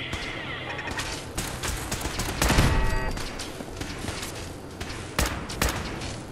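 Rapid bursts of gunfire and crashing impacts from a first-person shooter fight in Fallout 4's Nuka-World, dense and loud throughout with sharp volleys, no speech.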